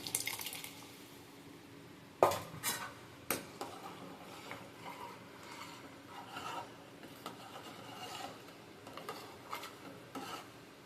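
Boiled ground lentil paste being poured into a cooking pot, soft wet sloshing and scraping with a few sharper knocks, quiet and close with no talking.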